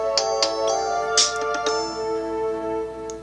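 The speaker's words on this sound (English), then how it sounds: "There's a lot of ringtones." A mobile phone from a garage sale plays a ringtone: a loud, close electronic melody of bright sustained tones with a few sharp note onsets, no voices.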